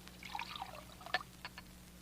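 Water poured from a pitcher into a glass as a radio drama sound effect in an old-time Philo Vance mystery: a faint, brief trickling pour with a few small splashes, heard alone in a quiet room.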